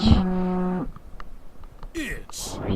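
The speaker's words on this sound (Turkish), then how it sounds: "İnek." A cartoon cow in a Minecraft animation gives one loud, close moo, followed by brief voices talking.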